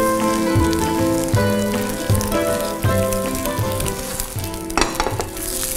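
Steady sizzling from a tortilla frying in a pan, with occasional scraping and tapping as it is turned or stirred.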